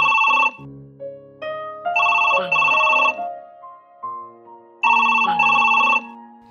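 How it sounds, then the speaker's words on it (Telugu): A telephone rings with a melodic electronic ringtone, playing repeated bursts of bright tones with short pauses between them, loud and close with no voices. "ఫోన్ వచ్చిందిరా"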